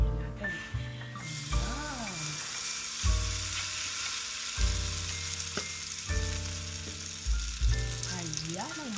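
Eggplant torta sizzles steadily in a hot pan, a constant close frying hiss running throughout, with a tonal voice or music over it.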